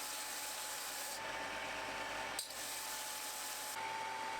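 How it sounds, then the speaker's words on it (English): A steady abrasive rubbing drone of a disc sander shaping oak, continuous and fairly loud, with a brief dip in the middle before the grinding resumes. "Then I did some sanding using my disc and belt sander to shape them."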